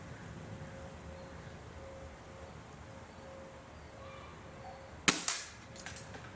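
A single sharp crack from a Gamo Swarm Magnum Gen3i .25 caliber air rifle fired at a target, close and loud, following a quiet outdoor stretch with faint ambient hum and a brief trailing report.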